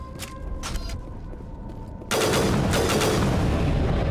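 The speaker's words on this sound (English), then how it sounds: "Oh, this is a burst fire." Burst-fire rifle shooting at Geth enemies in Mass Effect Legendary Edition: a few faint short bursts at first, then a sudden loud, continuous rattle of close gunfire filling the rest.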